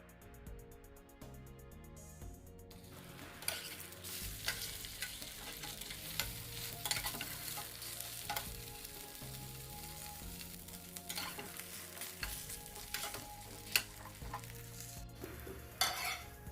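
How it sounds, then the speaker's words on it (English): Steady sizzle of bologna frying in a pan with occasional stirring and utensil scrapes, over a sustained tonal background hum. "we're gonna be frying our bologna and mangola"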